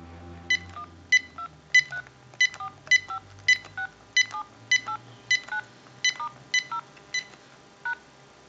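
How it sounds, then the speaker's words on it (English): A General Electric cordless telephone dials a number, sounding about fourteen crisp DTMF tone beeps in a steady, evenly spaced sequence, quiet and alone over a faint low hum. "we're going to go ahead and dial our numbers"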